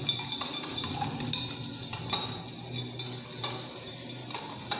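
Iodine solution being stirred in laboratory glassware, with repeated light clinks and ticks of a stirrer against glass, fairly quiet over a steady background hum.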